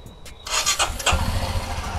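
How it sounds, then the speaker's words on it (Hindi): A Royal Enfield motorcycle engine cranks and catches, followed by a low, steady idle rumble close by, with no talking. "अब जब बाइक स्टार्ट करते हैं"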